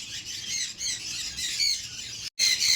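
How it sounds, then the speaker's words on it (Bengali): Adult sun conure parrots squawk loudly and shrilly in a near, continuous chorus at a bird breeding setup, with a brief gap before the harsh calls resume. "এই দেখুন একটা সানকুনুর আছে অ্যাডাল্ট"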